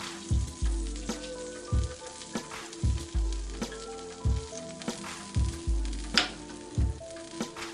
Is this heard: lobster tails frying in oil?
yes